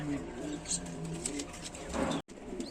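Stretcher pigeons, a pair kept in a loft, cooing in soft repeated low phrases close by, with people talking over them.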